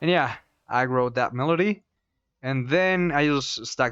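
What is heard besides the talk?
No everyday noises stand out.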